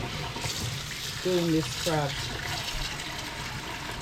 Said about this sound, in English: Put in cold water.